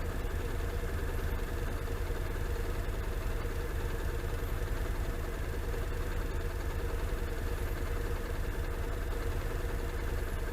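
A Honda NC700X motorcycle idles at a red light with a steady, even engine burble, accompanied by constant wind and road noise and no talking.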